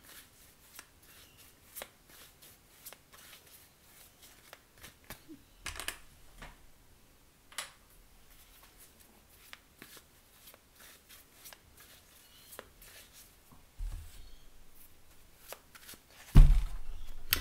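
Mythic Tarot cards are shuffled by hand for a reading, producing soft, quick riffling and tapping sounds. Brief bursts come and go at close range, and a louder thump follows near the end.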